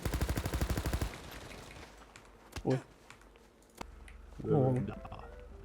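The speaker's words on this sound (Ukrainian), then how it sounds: "Вони ще почали по нам стріляти" A rapid burst of machine-gun fire in the role-play game Quant RP rattles first, then a few scattered shots follow while people talk briefly.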